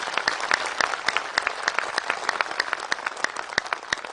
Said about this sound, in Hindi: मैं चाहता हूं उनके सम्मान में एक जोरदार ताली आप लोगों की